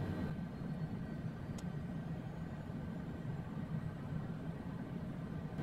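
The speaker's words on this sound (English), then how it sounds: "we're going to wait till this engine spools up and stabilizes" Cessna Longitude business jet engine spooling up during a cold-and-dark startup in MSFS2020, a steady low turbine rumble with a faint whine on top, quiet and continuous, no voices.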